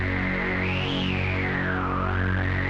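A sustained raw KORG MS-20 V software synth tone with modulation turned down, a buzzy, harmonic-rich timbre and a slowly rising then falling filter sweep, steady and loud, no voices.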